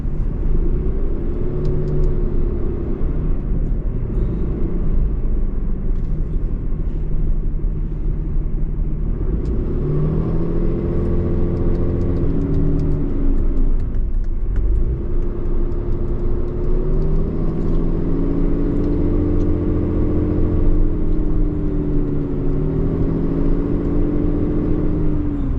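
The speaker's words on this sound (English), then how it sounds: "Truck is pulling over." Trucks pull out on the road with a loud, continuous engine rumble, rising and falling revs as they accelerate and shift, heard close throughout without talking.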